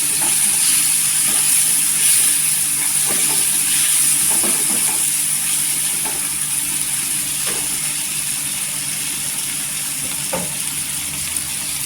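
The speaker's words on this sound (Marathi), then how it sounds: "मसाले छान असे तेलावर परतून घ्यायचे" Spices hiss and sizzle steadily in hot oil for papaya bhaji, a loud continuous frying sound with a few soft clinks of stirring.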